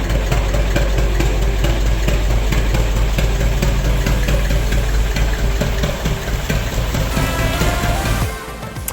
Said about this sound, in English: I think my favourite thing about going through the tunnels is just the sound of the engine